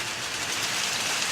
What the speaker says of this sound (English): That's the rain, dog.